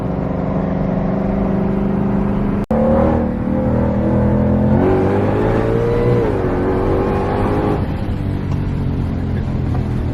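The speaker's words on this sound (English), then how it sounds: "This car loves to crackle and pop now." A loud, close Shelby GT500 engine revs and rises in pitch, with a sharp exhaust pop near the start, then drones on steadily.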